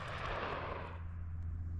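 A single gunshot fired at a padlock shackle, a loud blast that fills the start and rolls off into a booming decay, heard alone.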